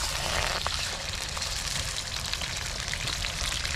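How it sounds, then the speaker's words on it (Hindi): Mutton pieces hit hot oil for a karahi, giving a loud, continuous broadband sizzle with fine spattering crackle throughout and no voices. "और ऑयल में हम डाल देंगे अपना गोश्त।"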